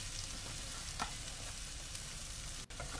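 Curry-powder blue swimmer crab being stir-fried with onion and egg in a hot pan, giving a steady, close sizzle with soft stirring scrapes and no talking.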